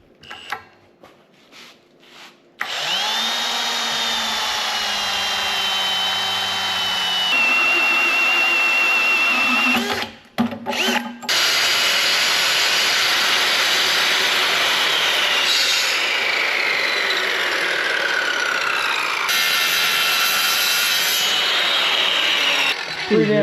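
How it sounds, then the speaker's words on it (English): A hole saw cuts through a 1/4 inch aluminum engine front plate, lubricated with WD-40. It makes a loud, continuous grinding screech with a ringing squeal, briefly dropping out near the middle before resuming steadily to the end. "Can't remember the last time I used a hole saw on 1/4 inch aluminum."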